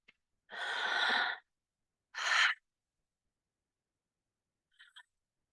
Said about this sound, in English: we're going to do our second round of circular connected breath